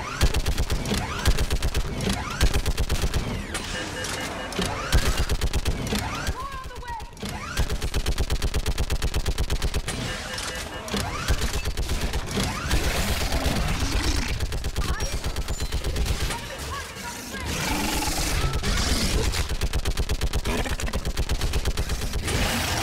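Dense automatic gunfire rattles almost nonstop in the video game Mass Effect 3 during a fight on a bridge, loud and rapid with one brief lull, while voices call out over the shooting.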